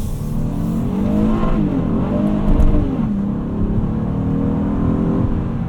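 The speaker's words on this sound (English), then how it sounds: "Let's throw us into sport mode. Hit a little bit more VTEC here." A 2026 Honda Odyssey Elite's engine revs hard in sport mode into VTEC, a loud, steady, rising drone that holds throughout at close range with no talking over it.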